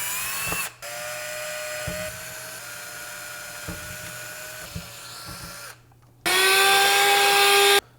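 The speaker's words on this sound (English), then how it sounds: "Now using a 1/16 drill bit, I'm going to drill all these out." A power drill with a 1/16-inch bit drills out holes, giving a high steady whine in several short runs separated by brief pauses, then stopping before a louder final burst.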